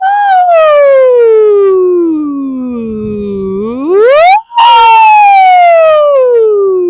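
A single voice imitates a siren, sliding smoothly down in pitch, sweeping back up, breaking briefly, then holding a higher tone, loud and close.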